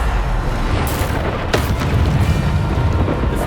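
Booming spell blasts from the Bombarda spell in the Hogwarts Legacy video game, a dense continuous rumble with a sharp burst near the middle.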